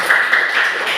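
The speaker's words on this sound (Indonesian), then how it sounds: "Oke, tepuk tangan untuk si Marlinus." Schoolchildren applaud in a classroom, a dense, steady patter of many hands clapping close by for about a second.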